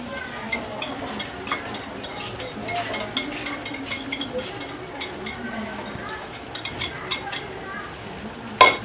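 Banana cake mixture is stirred in a bowl, with soft repeated scraping and occasional light clinks of the utensil against the bowl, running steadily and fairly close.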